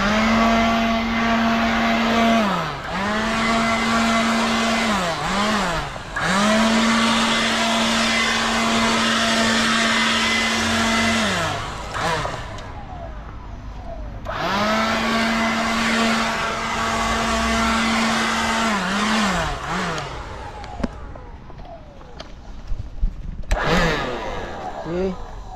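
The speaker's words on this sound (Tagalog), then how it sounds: "Blower natin doon." An electric blower runs with a loud, sustained whir, rising and dipping in pitch, cutting out briefly around twelve seconds and then stopping toward the end with some clatter.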